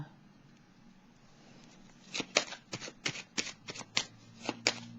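Tarot cards being shuffled by hand for a reading, a quiet lead-in followed by a run of about ten crisp, close riffling bursts in an irregular rhythm, with no talking.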